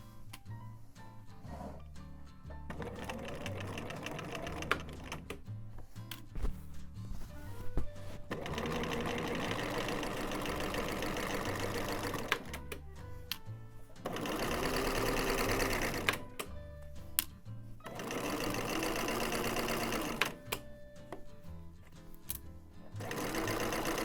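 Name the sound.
sewing machine sewing a wide zigzag stitch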